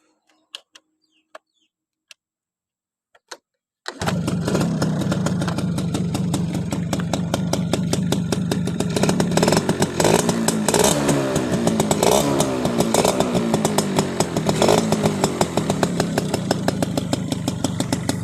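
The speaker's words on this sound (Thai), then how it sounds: "เดี๋ยวรับฟังเสียงเครื่องดู" An RC100 motorcycle engine starts after a few faint clicks, then idles steadily and loudly with a constant rumbling putter, close to the microphone.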